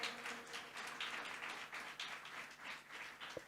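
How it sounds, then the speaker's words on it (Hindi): A church congregation applauds at a service, a dense burst of clapping from many hands that swells and pulses for a few seconds, fairly distant and soft. "क्या हम ऑनलाइन व्यूअर्स के लिए जोरदार तालियां बजाएंगे?"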